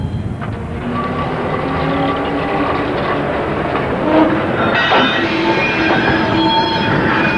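A 1963 Ruston diesel quarry train rumbles past hauling chalk wagons at Barrington, Cambridgeshire, with clanking wheels and metallic squeals over a steady engine drone, loud and close.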